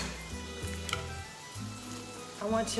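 Pancetta browns in a pan with a steady, close sizzle and soft crackle throughout, and a brief louder spatter near the end.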